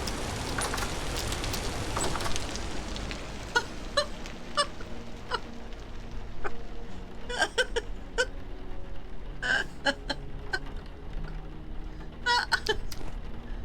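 Rain in the video game Vintage Story, a steady patter of drops on surfaces with scattered sharper taps and faint bird calls, continuous throughout with no voices.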